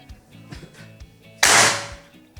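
One sharp crack from a Ruger Morgan A1 air rifle during a long-range performance test, preceded by faint clicks and handling noises, then a sudden loud report that tails off quickly.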